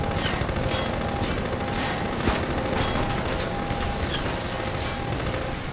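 Gunfire in the video game Half-Life 2: dense, continuous volleys of shots crackling loudly and close throughout, with no voices over it.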